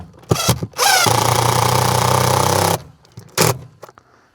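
A power drill drives screws into a permanent lighting receiver mounted on a roofline wall, first in short bursts, then a steady whirring run of about two seconds, followed by one more brief burst, loud and close.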